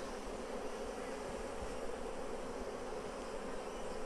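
Honey bees swarm around an opened Flow Hive, making a dense, continuous buzzing that stays loud and close with no pauses.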